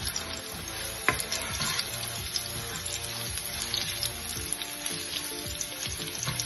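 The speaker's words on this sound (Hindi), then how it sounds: "चिकन डाल के फ्राई करूंगी।" Chicken fries with garlic and ginger in a kadhai, a continuous close sizzle and crackle with occasional stirring knocks, running under steady background music.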